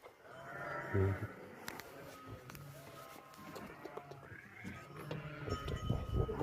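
Sheep and lambs bleat nearby in a few short calls, with faint background noise and shuffling between them.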